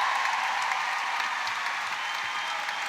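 A large crowd at the M&S Bank Arena applauds during a netball third-place play-off, sustained and dense clapping that fills the whole stretch at a steady level.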